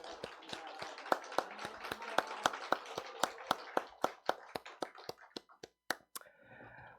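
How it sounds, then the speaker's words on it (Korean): A church congregation claps together to celebrate an elder's release from military service, a dense run of sharp hand claps that thins into a few scattered final claps before fading out. "우리 같이 축하의 박수 한번 하겠습니다."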